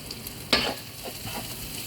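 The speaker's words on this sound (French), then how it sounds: "On mélange pour que les oignons prennent bien le goût de l'estragon." Onions frying with tarragon in a pan are stirred, a brief scraping swish over a soft steady sizzle, close and fairly loud with no voices.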